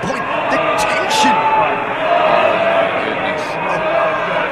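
A wrestling crowd at Wembley Arena murmurs and shouts during a tense championship match, with scattered individual voices and sharp slaps and thuds from the ring over a loud, constant arena roar.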